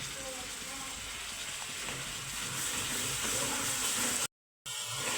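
Food sizzles steadily in a pan with onion-garlic paste cooking in oil, a constant bright hiss broken by a brief dropout near the end.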